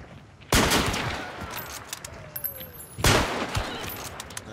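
Two loud gunshot blasts in the Hunt: Showdown video game, a few seconds apart, each followed by a short decay, with quieter clatter between.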